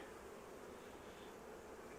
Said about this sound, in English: There does appear to be a few bees right at the entrance that are fanning